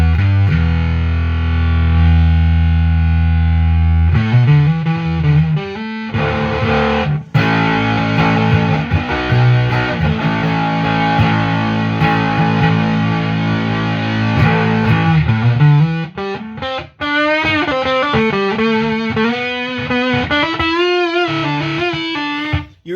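Electric guitar played through a Behemoth II bass overdrive pedal gives thick, fuzzy distortion with a strong low fundamental, sustained chords and then rapid melodic runs. The playing is loud and continuous, with no talking.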